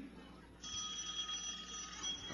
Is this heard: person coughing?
no